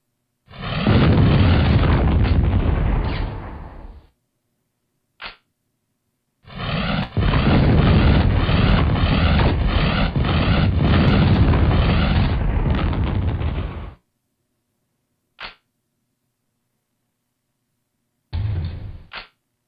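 Missile explosions in the 1996 PC game Fire Fight: long roaring blasts in two heavy bursts separated by silence, followed by short sharp pops and a final brief blast, loud and close.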